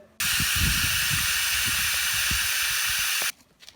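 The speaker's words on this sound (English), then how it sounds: "So now I'll just turn the air compressor on, plug her in with the air hose, and we'll give it a test." Compressed air from an air compressor hisses hard through a sandblaster air hose, one loud steady burst lasting about three seconds before cutting off abruptly.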